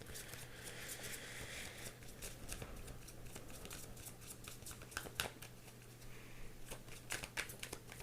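Tarot cards shuffled by hand in a quiet room for an advice draw, giving soft, close riffling and patting in short bursts over a steady low hum, with no talking.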